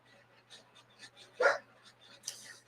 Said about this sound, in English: I hear Jethro barking